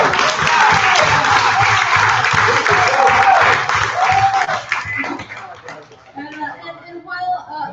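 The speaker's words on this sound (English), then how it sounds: "Let's get a round of applause for Rich." An audience gives loud, dense applause that holds for about five seconds and then tapers off, with people talking and calling out in the room as the clapping fades.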